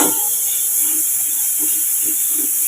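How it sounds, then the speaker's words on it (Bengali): Onion frying in a pan for a pointed gourd curry, giving a steady loud sizzling hiss close up, with faint soft clinks underneath and no talking. "পেঁয়াজটা ভাজা হোক"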